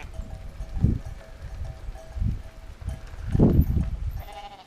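A flock of sheep bleating in several loud, close calls spaced a second or so apart, over low rustling from the moving animals.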